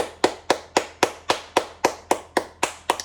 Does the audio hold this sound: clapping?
yes